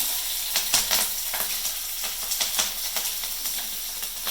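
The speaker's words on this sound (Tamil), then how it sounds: "கடுகு போடுதேன். அப்புறம் மிளகாய்," Mustard seeds and dried chillies sizzle and crackle in hot oil for a vegetable kurma, a steady close hiss with small pops scattered through it.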